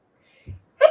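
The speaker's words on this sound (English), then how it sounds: "Sneeze, and I couldn't hit the mute." One sharp, close sneeze bursts out at the very end after near silence and a faint low thump.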